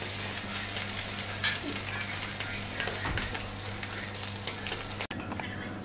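An egg cooks in a pan for a shami burger as the pan is tilted around, giving a steady, close frying sizzle with a few faint scrapes. The sound cuts off abruptly near the end.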